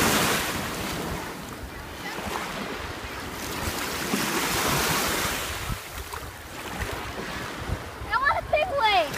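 Ocean waves breaking and washing up on a beach, a steady loud rush of surf with wind buffeting the microphone, and a voice calling out near the end.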